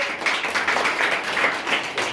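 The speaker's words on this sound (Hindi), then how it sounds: "चलो शिवानी आ जाओ। शिवानी के लिए जोरदार ताली।" A classroom of schoolchildren claps loudly for a student called up for second position at a school exam results event, a steady dense burst of applause throughout.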